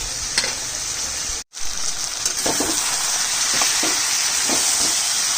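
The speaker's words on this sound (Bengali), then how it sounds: "মাংসটা আমি ভালো করে কষিয়ে নেব" Loud, continuous sizzling of goat meat frying, with a brief cut and occasional clinks of stirring over the steady hiss.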